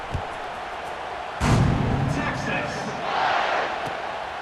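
Stadium crowd noise in EA Sports College Football 26, a broad steady murmur that swells with a burst of cheering and thumps partway through, then settles into a lower roar with faint calls.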